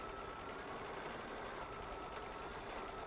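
Baby Lock Solaris embroidery machine stitching a quilting-in-the-hoop design, a steady low mechanical whir and rapid needle chatter heard close up and quiet, unbroken throughout with no talking.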